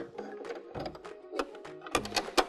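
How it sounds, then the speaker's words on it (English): A sewing machine with a drop-in bobbin has its needle raised to the up position, producing soft mechanical whirs and a few sharp clicks up close, fairly faint and without speech. "I'm going to go ahead and raise the needle in the up position."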